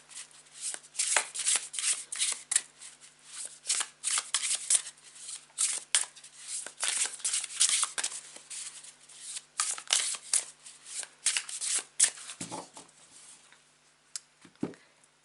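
A deck of tarot cards is shuffled by hand in a continuous flurry of crisp riffles and slides, close and clear, with brief pauses near the end and no talking.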